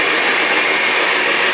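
A high-end O scale model locomotive running on a 6x14 train layout, a steady close rolling rumble and whir with faint rhythmic clatter throughout, no voices.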